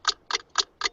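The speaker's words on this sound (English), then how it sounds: "this ticking clock is good too" A ticking clock effect in Google Hangouts gives four crisp, evenly spaced ticks about a quarter second apart, close and clean against near silence.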